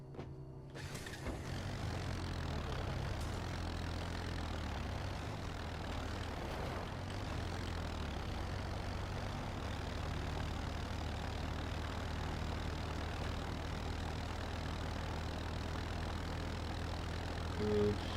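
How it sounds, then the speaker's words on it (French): A steady, loud vehicle engine drone from the video game Red Faction, running continuously with a low humming rumble and no talk over it. "Oh, et on a un bon véhicule cette fois-ci."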